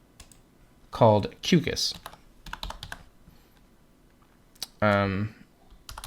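Keys clatter on a computer keyboard as a folder name is typed in all caps, a short run of light clicks between stretches of a man's speech.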